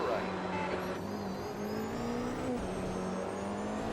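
LMP2 and GTP prototype race cars in the Automobilista 2 sim racing game, a close, steady engine whine with pitch rising and falling as the car accelerates and shifts, and other cars droning nearby.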